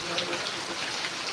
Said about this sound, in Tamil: மழை இன்னும் விடாம பேஞ்சிட்டே இருக்கு.